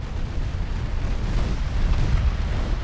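Battleship secondary guns, 1.7-inch, firing in the naval battle game Ultimate Admiral Dreadnoughts, heard as a continuous low rumbling barrage of overlapping booms, steady and dense with no separate shots standing out.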